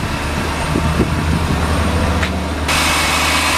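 A Mazda RX-7 FD rotary engine idles fast and steady after fitting an Apexi Power FC, a constant droning hum that stays close and loud with no voices.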